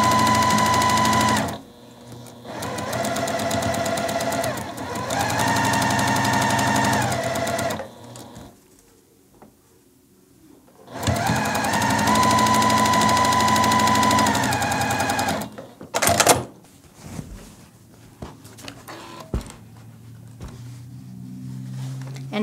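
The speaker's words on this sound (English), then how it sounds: "And then we'll sew 1/4 inch down this edge." A sewing machine stitches a quarter-inch seam on a churn dash quilt block, running in steady loud bursts of several seconds each with short pauses between, then a couple of brief clicks and taps near the end.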